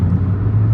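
A Suzuki Swift Sport drives fast along a long sweeping road, its engine and road noise forming a loud, steady, close rumble for a brief moment.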